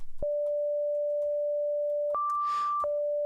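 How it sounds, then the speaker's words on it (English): A pure sine tone from a Bitwig Grid synthesizer, a steady clean hum that steps up in pitch for under a second with a breathy burst, then drops back to the original note. "So we have here a sine wave."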